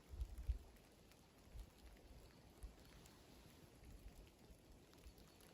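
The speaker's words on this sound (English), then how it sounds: "the rain just hitting the trees" Soft steady patter of rain falling on foliage, quiet and diffuse, with a few faint low thumps near the start and no voices.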